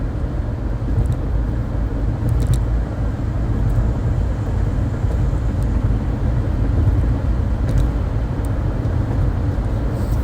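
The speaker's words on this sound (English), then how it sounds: "Because I see traffic going every which way." Road traffic rumbles in a steady, low wash of engine noise from passing cars, continuous and fairly loud, with faint higher clicks now and then.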